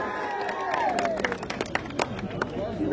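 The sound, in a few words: crowd clapping to welcome the district minister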